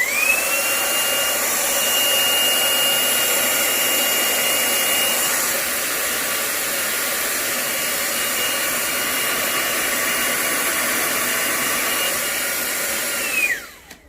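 A Hoover Blade Max cordless vacuum runs on maximum power mode with a loud, steady, high-pitched whine and rushing airflow. It holds constant and close, then spins down sharply at the end, with no talking.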